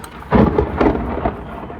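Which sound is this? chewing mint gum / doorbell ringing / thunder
thunder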